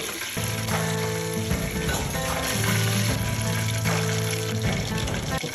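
Chicken pieces deep-frying in oil over a medium flame for homemade KFC-style fried chicken, a loud, steady close-up sizzle and bubbling crackle with some low hum beneath and no voices.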